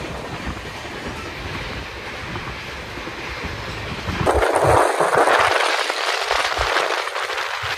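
A train at Kishanganj railway station rumbles steadily, then swells into a louder, closer rushing roar partway through that holds to the end.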